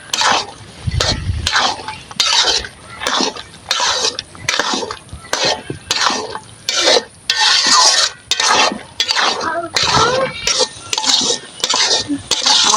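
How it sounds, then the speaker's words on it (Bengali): A spoon stirs spiced chickpea curry (ghugni) in a pot, giving loud, close scraping and clinking strokes. Roughly a dozen quick strokes repeat in a steady rhythm, with no talking. "আমি এটা ভালোভাবে মিশিয়ে নেবো"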